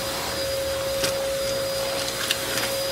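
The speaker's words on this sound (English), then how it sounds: "time to vacuum" A toy vacuum cleaner runs during a toddler tea-party game with dolls, giving off a steady high whine and light buzzing, with a few small clicks and taps over it and no voices.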